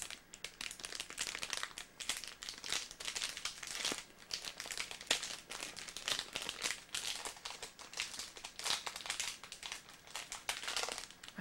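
A plastic bag is being opened close by, a continuous busy crinkling and rustling that varies in intensity throughout, with no other sounds.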